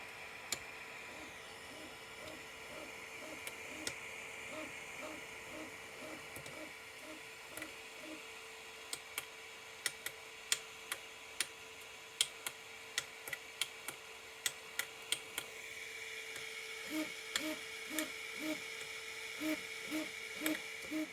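Anet A8 3D printer fitted with TMC2208 stepper drivers running a print, giving steady close-up whining motor tones with repeated rhythmic pulses and a run of sharp ticks partway through, with no talking.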